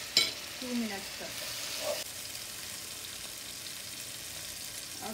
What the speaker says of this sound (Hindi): और इसको फ्राई करेंगे 2 मिनट तक.